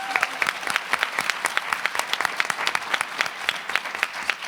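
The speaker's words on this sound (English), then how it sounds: "So can I get a round of applause for that?" Applause from a conference audience during a rare disease advocacy talk, a moderate room of people clapping with individual claps audible in a steady rhythmic patter.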